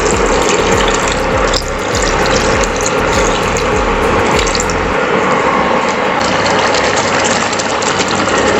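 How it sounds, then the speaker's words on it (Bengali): Milk powder dissolved in hot water pours into a pan of chicken roast, a loud, close, continuous gushing splash that stays steady throughout. "সামান্য গুঁড়ো দুধ আমি গরম জলে গুলে রেখেছিলাম, সেটা আমি 1 কাপ মতো দিয়ে দিচ্ছি"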